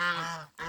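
Geese honk in loud, close, harmonic calls that run continuously, break off for a brief moment of near silence, then start again, with no talk over them.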